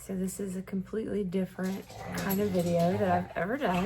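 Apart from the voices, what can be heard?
dogs whimpering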